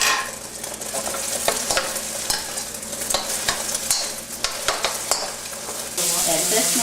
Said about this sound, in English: What she's doing is scrambling the egg.